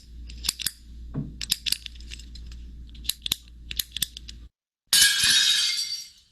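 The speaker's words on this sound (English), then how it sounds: "Glass breaking." Glass breaks after a stretch of scattered clinks and taps, ending in a loud, bright shatter with a spray of fragments that decays over about a second.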